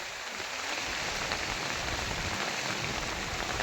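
Steady rain pours down outdoors as a continuous, even hiss that fills the whole clip, loud and close, with no voices.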